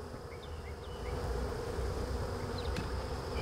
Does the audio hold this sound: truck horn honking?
no